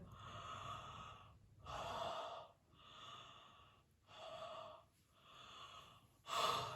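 A person imitating yawns: a slow series of long, breathy yawning exhalations, close up and quiet.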